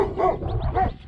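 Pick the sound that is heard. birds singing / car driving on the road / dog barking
dog barking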